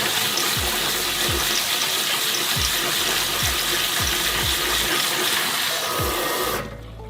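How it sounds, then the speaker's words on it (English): Pumpkin seeds rinsed under a kitchen sink sprayer: a steady, broadband rush of spraying water runs loud and continuous with low thumps beneath, then cuts off abruptly near the end. "we're going to bring it over to our sink and we're going to go ahead and spray it down and just kind of rinse them"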